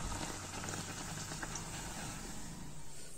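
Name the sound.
Assamese feni pitha frying in hot oil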